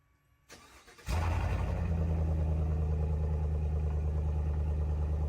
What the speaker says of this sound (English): That's what a V8 should sound like.